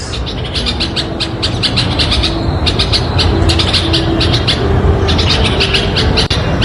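Birds chirp and tweet in quick repeated bursts by a window over a loud, constant background hum, close and busy throughout.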